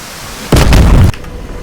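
Hellfire AGM-114L missile launch from an AH-64D Apache in the DCS video game, a sudden loud roaring burst lasting about half a second, then cutting off to a low background hum.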